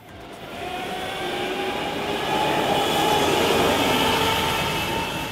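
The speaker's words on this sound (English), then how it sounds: "This go-kart is an electrical powered kart. It's made by a manufacturer called Birrell." A Birrell electric go-kart whines past with a smooth rising and falling electric-motor hum and steady tyre roar, building in loudness toward the middle and staying close, no voices.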